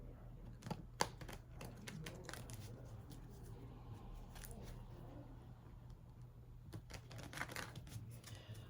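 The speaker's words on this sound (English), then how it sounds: "just shuffle these cards up really good" Soft riffling and flicking of playing cards being shuffled repeatedly, with scattered crisp snaps over a low steady hum.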